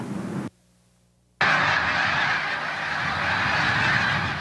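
Geese honk loudly and continuously in a dense, harsh chorus after a brief silent gap, with no voices.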